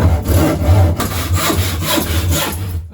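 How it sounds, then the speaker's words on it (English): A hand saw cuts through a piece of wood clamped in a vise, steady back-and-forth strokes rasping close and loud with no talking over them. "So there you go, perfect way to saw"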